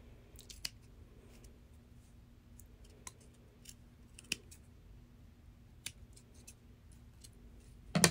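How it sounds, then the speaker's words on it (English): Scissors snip through thick terry cloth fabric in sparse, sharp individual cuts spaced about a second apart, quiet and close in an otherwise hushed room, ending with a louder cluster of snips. "It's a little trickier to cut the thicker fabric like the terry cloth than it is the thinner fabric."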